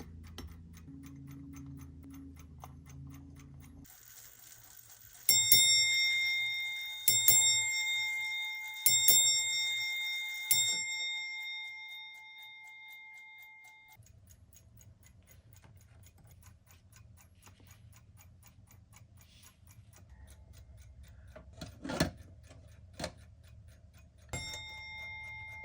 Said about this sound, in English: A nice running Seth Thomas Model 7 ship's bell with an 1879 movement.